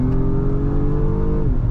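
A 2022 Acura MDX Type S engine pulls hard under full throttle, a loud, steady, close-up drone that climbs slightly in pitch before easing off near the end; no talking.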